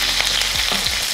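Shallots, garlic, curry leaves and dried red chillies sautéing in hot oil after mustard seeds pop, a loud continuous sizzle with stirring scrapes close up.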